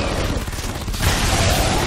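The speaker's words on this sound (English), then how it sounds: "Big explosion!" Big explosion during Shadow Warrior 2 gameplay: a dense, sustained roar of noise that swells about halfway through and stays loud to the end, mixed with other game sounds.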